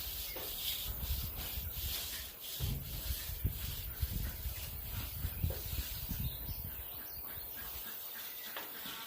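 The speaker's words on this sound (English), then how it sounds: "you can lightly hand sand it" Soft, continuous hand sanding of a polyurethane-coated wooden picnic table, close and even, with short repeated strokes of abrasive against the finish.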